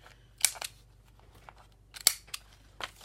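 Scissors snip through vellum paper in a few sharp, crisp cuts, close and distinct, separated by brief quiet pauses.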